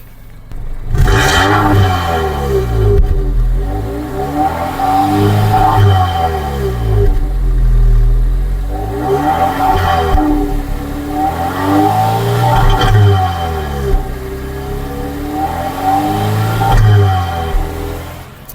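MG Astor petrol car revved repeatedly, its exhaust note rising and falling in several distinct surges over a constant close rumble, loud and with no voices.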